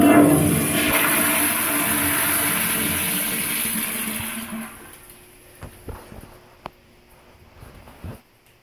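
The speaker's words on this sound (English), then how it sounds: "Let's give it a flush." A Toto toilet in a dormitory room flushes with a loud rush of water for about four seconds, then drains away into a quieter trickle with a few sharp clicks and knocks from the tank.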